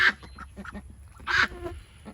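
Ducks quacking nearby in a small backyard flock, a few short raspy calls in quick succession followed by a louder burst.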